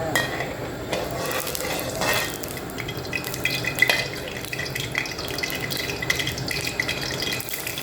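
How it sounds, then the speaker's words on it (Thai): Pork lard hits a hot pan and fries with a steady, dense sizzle and crackle, continuous and fairly close, with no voices. "น้ำมันหมูลงไปค่ะ"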